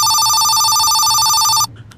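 A phone ringtone rings very loudly and continuously in a repeating electronic pattern at close range, then cuts off abruptly, leaving a quieter room with faint background noise.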